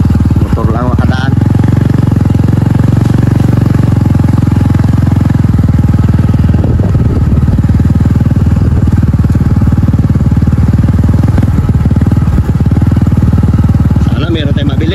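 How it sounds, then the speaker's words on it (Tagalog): A motorcycle engine drones loud and close for the whole stretch near a beachside fish-buying spot, a steady, throbbing mid-pitched rumble that never fades. "Motor lang makadaan."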